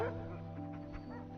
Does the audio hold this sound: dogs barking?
yes